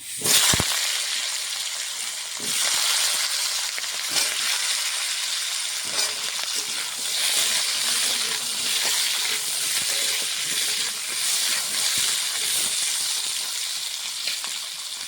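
Washed, cut potatoes hit a hot pan with bay leaf and black cumin for a Bengali greens dish, sizzling loudly and steadily with hissing and occasional stirring clatter throughout, no voices.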